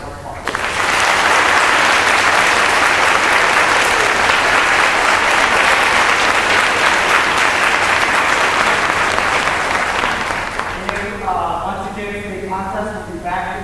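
An auditorium audience at a Strongsville High School spring orchestra concert breaks into loud, sustained applause lasting about ten seconds before fading, and a voice starts speaking as the clapping dies away.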